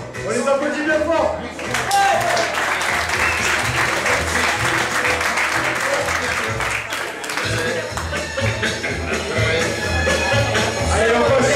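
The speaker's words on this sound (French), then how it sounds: "On les applaudit bien fort." Sustained audience applause at a fashion segment of an awards ceremony, dense and loud throughout with some cheering and voices mixed in.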